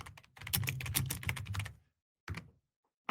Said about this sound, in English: that's the last time I'm gonna type